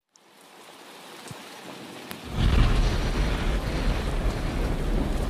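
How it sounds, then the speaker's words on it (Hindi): Heavy rain pours steadily, starting faint and swelling into a dense, loud roar after a sharp crack, continuing without pause and with no voices. "कितनी जोर की बारिश हो रही है।"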